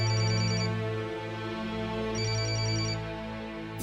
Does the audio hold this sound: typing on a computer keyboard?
no